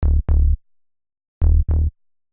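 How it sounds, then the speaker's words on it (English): Four short, punchy bass notes from the Serum synthesizer in two quick pairs separated by a pause, deep and loud, with no voices. "up next I got this bass sound that I just found out of Serum"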